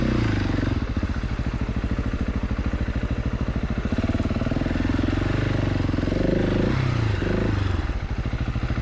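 Husqvarna 701 and KTM 690 single-cylinder offroad motorcycles climbing a hill, a close, loud, fast-pulsing engine thump that rises and falls with throttle, plus occasional clatter from rough ground.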